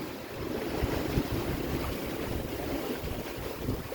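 A sailboat moves across open sea off the Bahamas, with a steady wash of water and wind noise rushing against the hull and microphone, continuous and fairly loud, with no voices.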